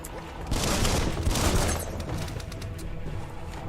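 Gunfire in the video game Biomutant, a dense burst of rapid shots that swells loud for about a second and then continues as a steadier rattle, with a voice talking faintly underneath.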